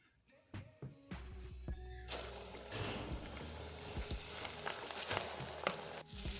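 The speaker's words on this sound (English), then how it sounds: "You drop this into nice cooking oil." Flour-dusted chicken pieces dropped into cooking oil: a few soft knocks and clunks, then a loud crackling sizzle that builds and holds steady, with popping spatters throughout.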